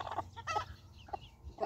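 An angry, broody American Bresse hen clucks and grumbles close by, giving several short, throaty clucks in quick irregular bursts.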